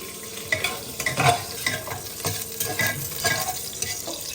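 Ghee sizzling in a pan with cinnamon, cardamom and bay leaf, a steady close crackle with scattered pops and light stirring scrapes.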